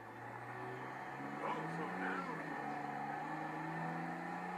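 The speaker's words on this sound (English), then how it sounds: "You hear the engine get loud." Car engine in a video game, a quiet steady drone that swells louder with a rising whine partway through, faint and continuous.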